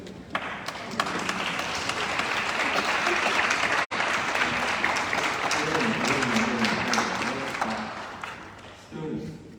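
A commencement crowd stands and applauds parents, family and friends, a dense, sustained wash of clapping that holds steady with a brief break, then tapers while faint voices murmur underneath.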